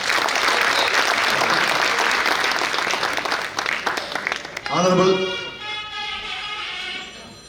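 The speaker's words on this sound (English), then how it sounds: "Please give him a round of applause, please." An audience at a Kerala Samajam of Greater New York golden jubilee celebration applauds a guest, a dense, loud, steady clapping that fills the hall for about five seconds and then fades as a voice begins speaking over a microphone.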